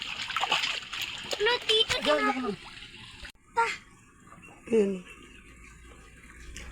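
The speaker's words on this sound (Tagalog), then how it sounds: "Ang linaw ng tubig kaya gustong-gusto namin maligo dito." Clear mountain river where people bathe outdoors, with water splashing and rushing close by in uneven bursts while adults and someone talk over it.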